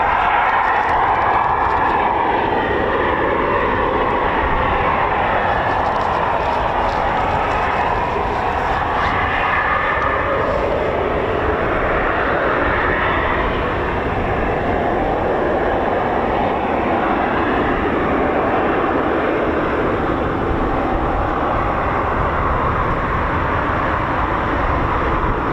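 A Eurofighter Typhoon FGR4 at RAF Coningsby starting up its jet engines, a loud continuous whine and roar that holds steady throughout with no speech.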